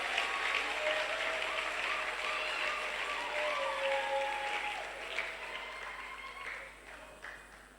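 An audience applauding at a talk, a dense sustained wash of clapping that stays loud for several seconds and then thins and fades toward the end, with faint tonal sounds drifting underneath.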